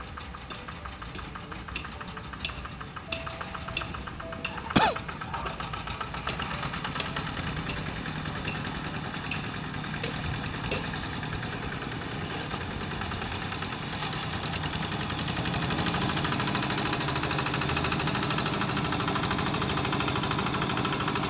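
A tractor engine works while plowing a flooded rice field, a steady mid-pitched drone with a faint knocking idle that holds evenly throughout, with one brief sharp knock early on, and no talking.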